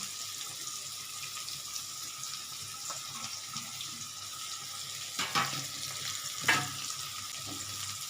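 Tomatoes tipped into hot oil with mustard seeds for rava suji upma give a soft, low sizzle close by, with a couple of brief clatters of utensils against the pan.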